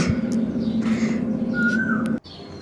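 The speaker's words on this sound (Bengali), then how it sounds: "রান্না করতে করতে আমি কোকিলের আওয়াজও শুনি" Near the end, a distant Asian koel gives a single rising whistled call over a steady low household hum.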